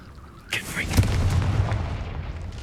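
A Confringo spell explodes in Hogwarts Legacy as a sudden boom with a low rumble that lingers and fades. A voice speaks just before the blast.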